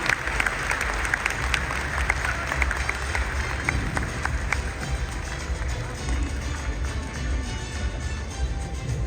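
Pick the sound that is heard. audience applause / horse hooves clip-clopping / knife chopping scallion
audience applause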